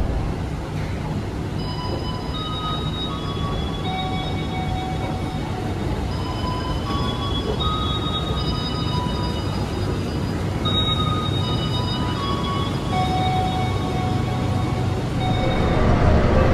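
The Argo Semeru train from Surabaya Gubeng to Gambir rolls into a station with a continuous low rumble and the screech of wheels and brakes, steady and loud for the whole stretch.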